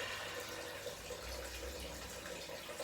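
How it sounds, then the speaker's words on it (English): Steady, continuous rushing waterfall with a broad hiss and low rumble, constant in level throughout, heard from nearby. "Enjoying the sounds of nature and the waterfall in the back."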